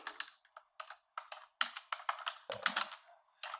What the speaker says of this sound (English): I'm one of these people who can't type and talk at the same time